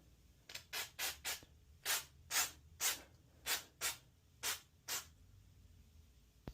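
Aerosol spray paint is sprayed onto a Stitch painting in about a dozen short, separate hissing bursts, close and fairly quiet, with brief pauses between them.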